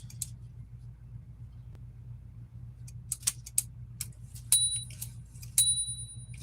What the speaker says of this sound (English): You can't expect too much from these bells.